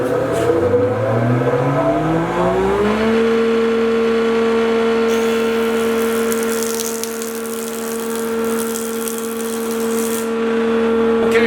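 A 16-inch Yates American industrial jointer spins up with a rising whine that settles into a loud, steady hum, and rough lumber then feeds across the cutterhead with a harsh roaring cut that lasts several seconds.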